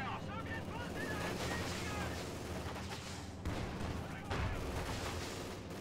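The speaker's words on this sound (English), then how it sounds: "incendiary rounds" Incendiary rounds fire during a Company of Heroes 2 battle, a dense continuous rattle of gunfire over a rumbling battlefield background, with a couple of heavier bursts near the end.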